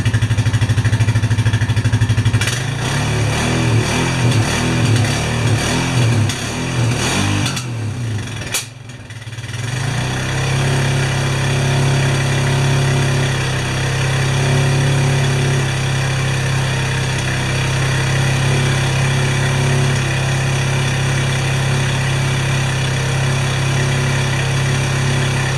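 A Honda Rancher 420 ATV in cold weather, around 35 degrees, cranks with a rhythmic churning for several seconds, briefly stalls, then catches and settles into a steady, loud, close idle.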